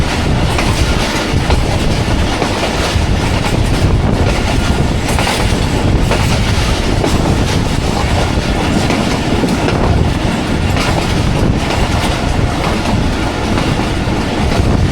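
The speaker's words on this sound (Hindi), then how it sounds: "स्किप कर रही है हमारी ट्रेन 40 डाउन जाफर एक्सप्रेस" Passenger train, the 40 Down Jaffar Express in Pakistan, running at speed on rails, heard from on board: a loud, steady, continuous rumble with clickety-clack wheel beats throughout, no voices.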